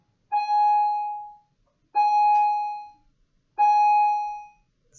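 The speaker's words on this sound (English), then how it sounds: "Sorry for the bell." A bell sounds during a recorded calculus lesson on cross sections: three evenly spaced, sustained electronic tones, each lasting about a second, ringing clearly against near silence with no talking.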